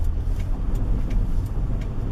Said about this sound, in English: so we got out on the highway, shifts through all the gears, nice.